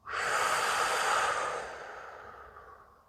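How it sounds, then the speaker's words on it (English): A single long, breathy exhale, close and fairly loud, starting abruptly and slowly fading away over about three seconds with no talking. "I'm going to breathe out."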